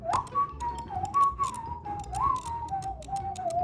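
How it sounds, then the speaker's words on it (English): Someone whistles a wandering, sliding melody in Minecraft speedrun game audio, clear and close, over faint clicking and background ticks, with no talking. "He's literally whistling while a piglin is building a nether portal"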